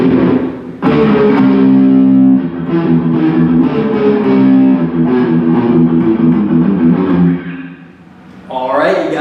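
A distorted electric guitar plays a lick at a faster tempo, loud and continuous with steady rhythmic picking, ending with a brief pause before more notes.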